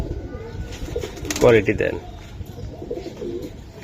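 Pigeons in a Bengali pigeon market, giribaz breed, cooing in a short low burst near the middle, mixed with background chatter and someone speaking.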